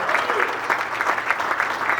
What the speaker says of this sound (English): Give a round of applause for John Hackett.